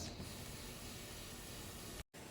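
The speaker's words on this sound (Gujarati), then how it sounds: "પાણી આ રીતે સરસ ઉકળી ગયું છે" Steady broadband hiss and bubbling roar of water boiling in a pot, continuous and fairly loud, with a brief dropout near the end.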